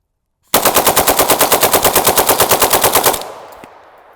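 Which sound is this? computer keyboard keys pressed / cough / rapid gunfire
rapid gunfire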